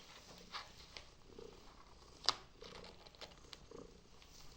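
Soft, low purring from a cat close by, steady and quiet, with a brief sharp click partway through.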